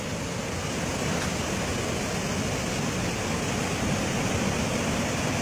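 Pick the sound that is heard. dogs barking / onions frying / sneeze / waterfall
waterfall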